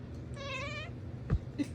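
A house cat lets out a single drawn-out meow, clear and close, followed by a brief low thump and a few faint knocks.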